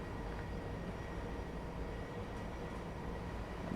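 A passing AI train in Train Sim World 4 on the London Commuter route, heard as a steady, dense broadband rumble with a constant roar and no distinct clicks, filling the whole stretch in bad weather.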